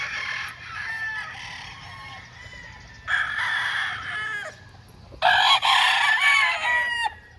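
Chickens and roosters in a poultry pen crow loudly in three long calls, with clucking and softer fowl noises running steadily underneath.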